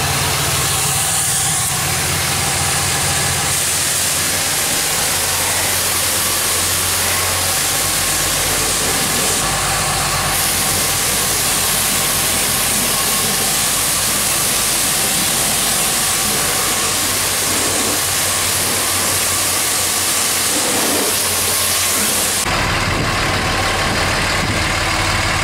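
A first-generation Ram truck engine runs at a steady idle, a continuous low rumble mixed with broad hiss that carries on throughout and changes tone near the end.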